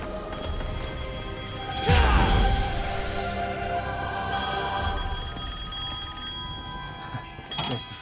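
A telephone rings in Devil May Cry 5, a repeated bell tone layered over game ambience, with a sudden crash-like whoosh partway through and the ringing continuing moderately loud.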